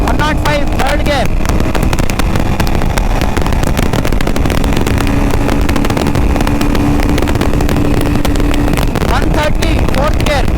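Royal Enfield Himalayan 450 motorcycle accelerating hard through its gears, a loud rising engine note under strong wind buffeting, with a voice talking over it.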